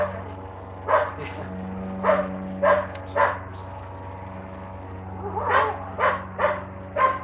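A dog at a home party barks in short sharp yips, about eight of them in two bursts, loud and close over a steady low hum.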